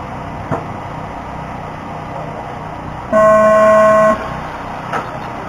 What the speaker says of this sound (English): We're going racing at the sound of the tone